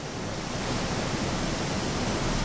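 A waterfall in the video game Gothic II roars as a steady, dense rushing wash of water, loud and unbroken throughout.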